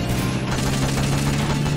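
Rapid gunfire in Metal Gear Solid: Peace Walker, a dense, loud, continuous burst of shots with a steady low hum beneath, unbroken for the whole stretch.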